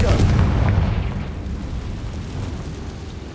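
Confringo spell blasts in the Hogwarts Legacy video game, a heavy booming explosion that rolls into a rumbling, fading roar over a few seconds.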